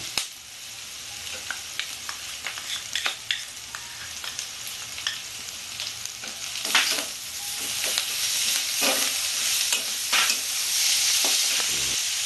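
Ginger garlic paste hits softened onions in a pan for Bengali-style mutton keema with kabuli chana, a sharp sizzle that swells and steadies, with scattered clacks of a spoon stirring, close and without speech.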